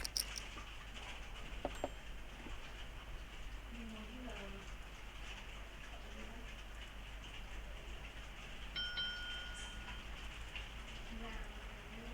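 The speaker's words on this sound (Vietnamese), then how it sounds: "mưa khá là to" Heavy rain falling steadily as a dense, continuous patter, with brief electronic beeps and tones from a game over it and faint voices now and then.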